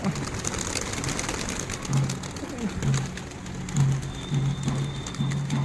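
Pigeons cooing at a home, a repeated soft low coo rising every second or so over a steady background hum, with wing movement and faint household noise around them.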